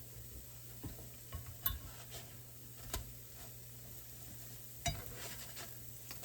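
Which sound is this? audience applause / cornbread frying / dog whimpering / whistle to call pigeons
cornbread frying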